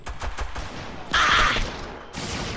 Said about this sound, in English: Bro, who's shooting me?